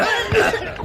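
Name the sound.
coughing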